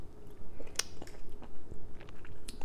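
Close-up chewing and biting of a raw chili rub mixture, with soft wet crunches and squishy mouth sounds in an irregular rhythm, no talking.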